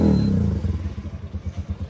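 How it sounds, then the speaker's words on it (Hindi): A Yamaha YBR motorcycle with a modified exhaust, heard close with a brief low rumble that settles into an uneven pulsing idle putter, short and fairly loud. "एग्जॉस्ट का भी साउंड सुनते हैं।"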